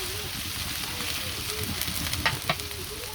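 Onions frying in a pan for a Bengali-style beef liver and lung bhuna, giving a steady broadband sizzle with a few brief scraping stirs near the end and no talk.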